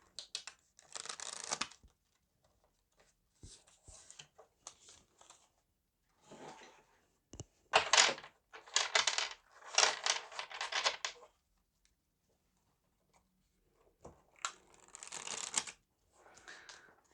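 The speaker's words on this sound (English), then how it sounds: "let's give it an extra shuffle." A deck of cards is shuffled repeatedly near the microphone, giving several bursts of riffling, fluttering paper slaps separated by short pauses.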